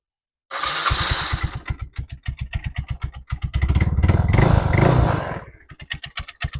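Small vehicle engine running after a repair, loose and clattery, with sharp rapid putts that rev up, hold a busier roar, then settle back into an uneven idle, close and loud.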